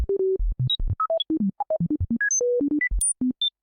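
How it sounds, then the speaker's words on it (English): A modular synth in VCV Rack, with a sample and hold stepping the pitch of a sine wave oscillator, gives a quick run of clean electronic blips that jump randomly between low and very high notes in short, uneven steps, clear and alone. "So now we have like a basic sample and hold modulating a sine wave kind of thing."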